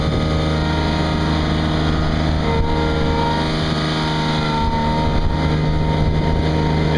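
A Ransomes AR 250 reel fairway mower with four-wheel drive and rear steering runs loudly and close, its engine droning steadily with a constant whirring hum and no voices over it.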